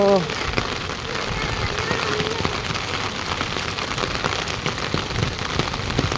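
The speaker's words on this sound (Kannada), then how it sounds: "ಮಳೆ ಮಳೆ ಮಳೆ." Heavy rain pours in Pune, a steady close hiss of drops drumming on surfaces, with a person speaking briefly at the start over it.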